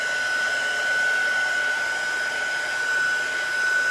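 A hair dryer blows steadily to dry chalk paste on a craft project, a constant close whine with a sharp tonal hum and airy hiss, with no talk over it.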